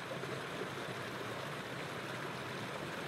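Waterfall and stream in Sma Glen pour with a steady, dense broadband rush, a constant close roar of flowing water throughout with no voices.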